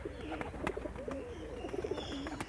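Pigeons kept in a loft cooing softly in repeated rolling calls, fairly close, with light rustling and faint background noise.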